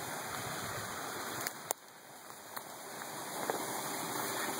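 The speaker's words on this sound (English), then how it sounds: "the water from the spillway runs through this 30-inch pipe that we've got plugged" Steady rushing of spillway water flowing through a plugged 30-inch pipe feeding a low-head hydro setup, a continuous broadband wash with a few faint clicks, alone and fairly close.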